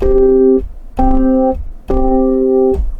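A sustained two-note interval, a perfect fifth, sounded three times in succession, each tone held under a second with short gaps, clear and close.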